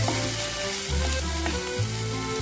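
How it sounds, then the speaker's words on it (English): Onion masala sizzles briskly in oil in a pan for chicken curry, a close continuous crackle broken by a few stirring scrapes. "After frying 2-3 minutes, oil will come up."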